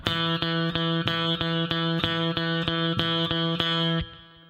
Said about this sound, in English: If we have 3 notes per beat, these are known as eighth note triplets, and they sound like this.